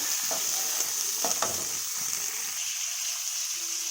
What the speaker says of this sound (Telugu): ఆ తర్వాత ఉసిరికాయ ముక్కలు వేసుకోవాలండి వేసుకొని వేపాలి